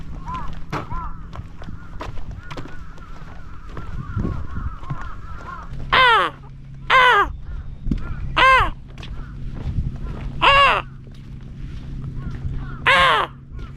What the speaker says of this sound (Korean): 와, 까마귀 살벌하다잉.